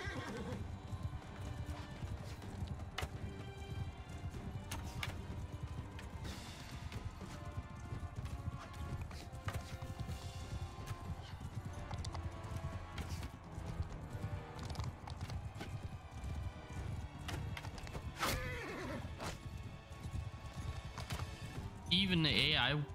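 Horses in Mount & Blade II: Bannerlord gallop with steady clip-clop hoofbeats and repeated neighs and whinnies amid battle noise, someone talking over it throughout.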